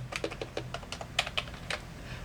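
Rapid typing on a Freewolf M87 V2 membrane keyboard, a steady run of close, crisp key presses with uneven rhythm and no voices.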